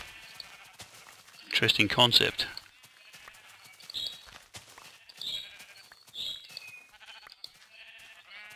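Sheep bleating, a loud nearby bleat followed by fainter calls, with someone talking over much of it.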